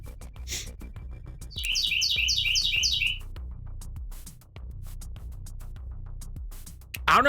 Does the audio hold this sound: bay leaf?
no